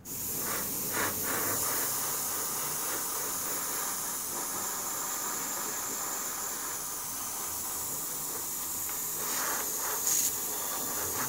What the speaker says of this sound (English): Just going to airbrush on some Tamiya buff in a very low PSI